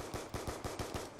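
Rapid video game gunfire rattles in a quick burst of about seven evenly spaced shots while shooting zombies, loud and close with no talking over it.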